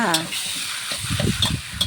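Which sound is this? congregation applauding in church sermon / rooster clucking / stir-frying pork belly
stir-frying pork belly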